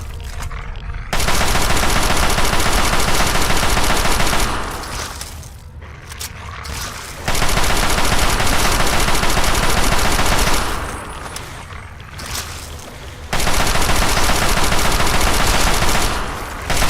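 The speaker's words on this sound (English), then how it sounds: "let's use the Chinese assault rifle" Chinese assault rifle in Fallout 3 firing long, loud sustained automatic bursts, three extended volleys separated by brief gaps.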